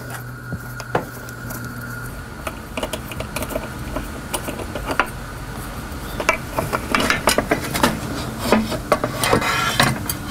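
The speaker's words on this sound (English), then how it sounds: "I'm going to go ahead and remove the clamp." Metal clicks, ratcheting snaps and scraping taps of a clamp being worked loose from a DE pool filter tank, close and irregular, growing busier and denser toward the end.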